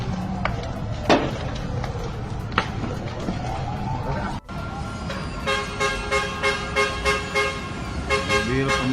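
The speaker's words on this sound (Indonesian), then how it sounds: "Mobil pemadam kebakaran pertama sudah sampai." A fire engine arrives at a large, fast-spreading building fire and sounds its horn in a series of repeated, pulsing honks, with a busy roadside crowd and voices heard under and around it.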